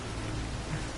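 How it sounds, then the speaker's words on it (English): Rain falls in the video game Fallout 4, a steady hissing patter with a faint low rumble underneath, continuous and even through a very short moment. "Rain in Maine"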